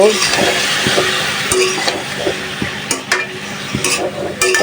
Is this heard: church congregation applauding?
no